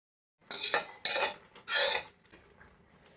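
Cooked dal and peas are mixed into cucumber in a pot for a Mangalore cucumber curry, three loud scraping, clattering stirs of a metal spoon against the pot followed by quieter clinks.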